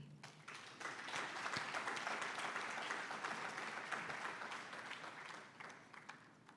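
Sustained applause from an audience at a graduate reskilling and career summit following a presentation, a dense wash of clapping that swells early and holds steady for several seconds before easing slightly.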